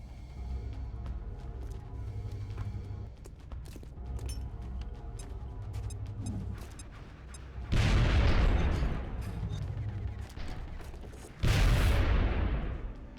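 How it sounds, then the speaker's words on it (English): A grenade explodes in XCOM Enemy Within during a base defense mission, two loud booming blasts rising out of a lower bed of scattered gunfire and game sounds, with no voices. "He has 2 grenades, so let's use one to guarantee the kill."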